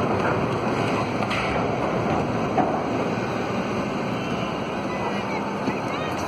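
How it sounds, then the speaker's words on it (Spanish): Sea water surges at a Veracruz port during a magnitude 8.2 earthquake, heard as a loud continuous roar of rushing water mixed with buffeting wind noise on the microphone. "Está saliendo el agua del mar."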